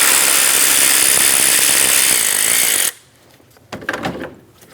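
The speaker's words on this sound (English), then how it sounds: "Remove the other bolt" A power tool whirs loudly and steadily while removing a bolt from a 2005-2009 Subaru Legacy engine bay, then cuts off abruptly, followed by a few close metallic clinks and rattles.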